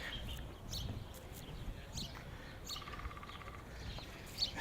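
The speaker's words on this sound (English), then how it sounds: "Ooh, I hear a woodpecker." A woodpecker's quick burst of rapid tapping sounds midway, set among scattered bird chirps in a quiet park in New York's Central Park.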